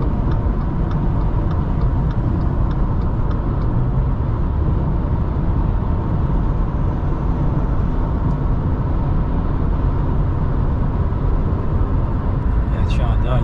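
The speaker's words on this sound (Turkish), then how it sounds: "Arabanın motoru biraz açılsın." Steady, loud road and engine noise from a Subaru XV driving onto a motorway, a continuous low drone and tyre roar that holds level throughout with no breaks.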